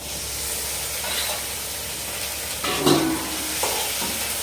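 Potatoes fry in a pan as kabuli chickpeas are tipped in, giving a steady sizzle with a louder burst of hissing and stirring partway through; no voices.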